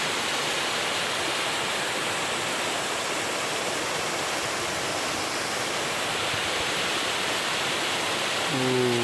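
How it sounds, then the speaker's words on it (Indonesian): The waterfall Curug Tengkorak roars from just below, a dense steady wash of falling water that fills the whole stretch loud and unbroken. "seperti inilah penampakan dari bawah Curug Tengkorak"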